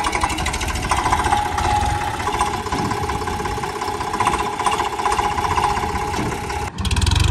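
A Swaraj 963 FE tractor fitted with a JCB loader attachment runs with its throttle raised, a loud, steady mechanical engine clatter and drone that carries on continuously before a brief dip near the end.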